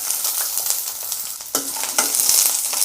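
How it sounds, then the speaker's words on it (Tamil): Onion fries in hot oil in a pan, giving a loud, continuous sizzle broken by sharp scrapes and clacks as it is stirred. No one speaks. "நல்லா எண்ணெயில் நல்லா வதக்கிடலாங்க."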